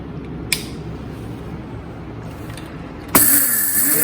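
A mixer grinder starts up and grinds roasted whole spices into powder, its switch clicking before the motor kicks in with a sudden loud, high whirring roar that continues steadily to the end, with no talk.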